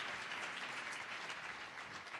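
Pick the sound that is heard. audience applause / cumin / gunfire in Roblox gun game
audience applause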